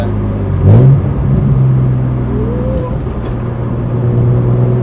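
BMW E36 fitted with a Supersprint exhaust pulls in third gear, a loud, steady engine drone that climbs gently in pitch over several seconds, with a brief burst of louder roar near the start.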